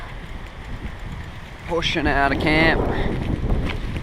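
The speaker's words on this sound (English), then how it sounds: "So windy now." Strong wind rushes outdoors in the Wollemi wilderness as a group heads out of camp, a steady roar that swells midway while someone talks briefly over it.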